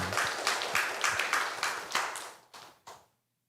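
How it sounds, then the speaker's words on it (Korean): Church congregation claps during a Korean Thanksgiving Sunday service, a dense burst of hand claps with rhythmic pulses that thins out into a few last scattered claps before fading to silence. "하나님께 영광의 박수 올려드리겠습니다."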